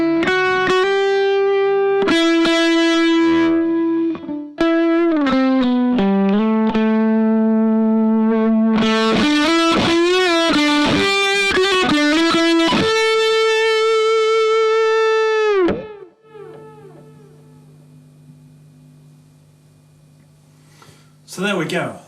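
Electric guitar played through a delay effect, loud distorted notes and sustained bends whose repeats ring on, then fading away into quieter decaying echoes, with no one speaking.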